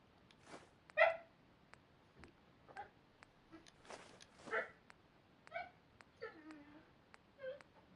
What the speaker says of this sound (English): See, right now you guys can hear the dogs in the background.